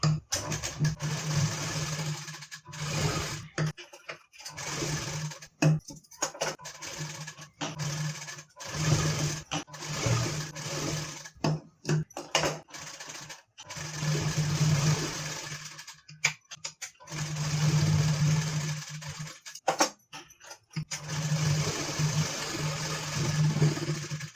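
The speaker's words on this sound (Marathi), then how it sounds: "मध्यभागी ठेवून त्याला शिलाई करून घ्यायचं आहे" A sewing machine stitches golden lace onto a sari blouse, its motor running in repeated close bursts of rapid stitching with short pauses between runs.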